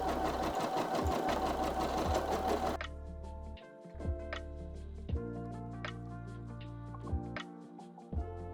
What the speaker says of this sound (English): we'll just hit the go button, and I'll just make sure that I stand by and watch the machine run these